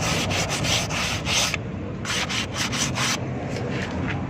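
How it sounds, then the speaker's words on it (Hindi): Sandpaper rubs back and forth on the leather of a brake shoe from a Suzuki Bolan in quick rasping strokes, close and fairly loud, with short pauses between bursts and no talking. "आपने रकमाल हल्का हल्का इसके लेदर के ऊपर लगा देना है"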